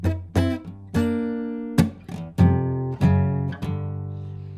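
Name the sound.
acoustic guitar chords played chromatically up to G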